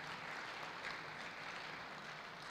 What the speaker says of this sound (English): Please give a round of applause to my very able and distinguished panelists.